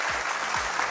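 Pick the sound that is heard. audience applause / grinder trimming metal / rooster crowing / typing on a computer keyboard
audience applause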